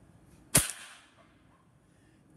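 Hatsan Hercules .25 caliber air rifle fires a 30-grain pellet into a 2x4: a single sharp crack near the start, followed by a short fading ring over quiet background.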